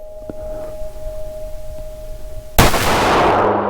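A Ruger LCP 380 Max pistol fires a single sharp, loud shot at close range about two-thirds of the way in, followed by a ringing, noisy tail; before it there is only quiet room tone with a faint steady hum.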